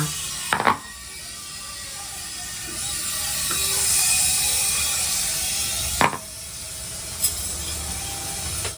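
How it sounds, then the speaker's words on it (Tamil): Idli steaming inside a cooker gives a steady hiss that swells and fades across the clip, broken by a few sharp metallic clicks and clanks. "இட்லி வேகிறது சவுண்டுனேண்ணா"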